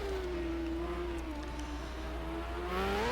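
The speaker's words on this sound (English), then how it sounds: "Into the tightest corner on the track, dropping it down to first gear." A 1995 Indycar engine in the rFactor racing game drops down to first gear for the tightest corner of the Toronto track, a steady near drone that rises in pitch at the end.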